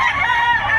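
A rooster crows loudly and close by at a Tuesday pre-dawn chicken livestock auction market in Batangas, one short strained call with no talk over it.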